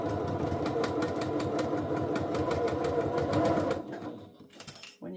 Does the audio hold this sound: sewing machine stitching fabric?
yes